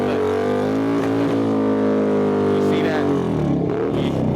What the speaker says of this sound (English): He got to burn rubber and everything.